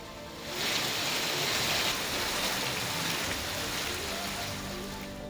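Heavy monsoon downpour lashing Miraj and Shirala talukas, a dense steady hiss of rain that swells in and holds at an even roar with no voices.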